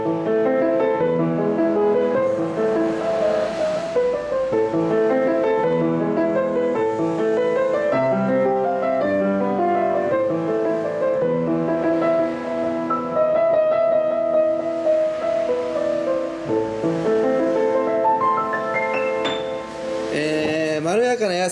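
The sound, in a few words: brown Diapason upright piano being played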